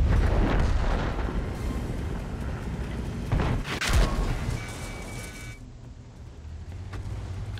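A tank cannon fires premium gold rounds during a World of Tanks match with the Super Conqueror, giving a loud booming blast near the four-second mark over a constant rumbling engine and battle din.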